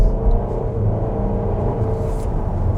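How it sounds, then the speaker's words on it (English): A 2021 Buick Envision Avenir with a 9-speed transmission rolls along the road, heard from inside as a steady, loud low rumble of engine and road noise with no talking. "All right, so I'm driving the Buick"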